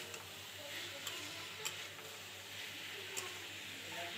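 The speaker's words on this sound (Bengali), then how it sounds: "এবার আবারও ভালো করে নেড়ে চেড়ে নেব এগুলো দিয়ে" Teasel gourd with turmeric and green chili is stirred in a pan, giving faint scraping stirs and a few light clicks over a quiet, steady frying hiss.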